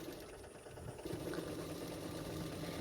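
A sewing machine stitches the belt part of a high-neck double katori blouse, running steadily and fairly softly for the whole stretch, getting a little louder after the first second.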